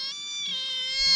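A house cat gives a drawn-out, tonal meow, close and clear against a quiet background, with a faint low rumble near the end.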